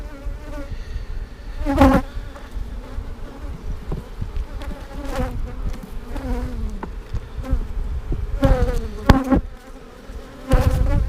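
Honey bees robbing out a dead hive colony, a dense buzzing swarm humming steadily up close, with individual bees droning louder as they pass near.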